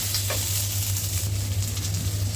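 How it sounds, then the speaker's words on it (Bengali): Cubed capsicum fries on high heat in a pan with garlic paste, giving a steady, moderate sizzle with a low hum underneath and no talking. "এটিকে দিয়ে ভালো করে হাই হিটে ভেজে নেব।"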